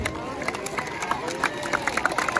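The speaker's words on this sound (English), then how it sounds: "Tell me, clap for yourselves." Students at a school pep talk clap their hands, a light, fairly quick patter of claps under crowd noise and murmuring voices.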